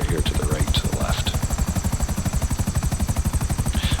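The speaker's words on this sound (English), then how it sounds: "when you're flying around in the Buzzard, and some of this applies to other helicopters too" Buzzard attack helicopter flying in GTA Online, its rotor thudding in a fast, even, loud pulse throughout, with a few faint higher chirps over the beat.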